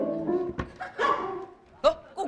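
A dog gives a few short, sharp barks in an indoor scene while several people talk over and around it.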